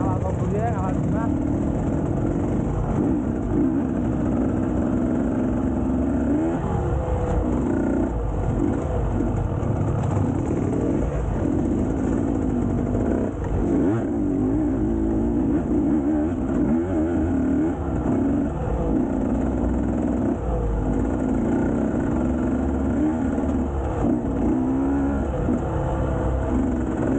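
A trail motorcycle revs repeatedly on a city street, its engine rising and falling loud and close for the whole stretch, with people talking nearby and birds calling in the background.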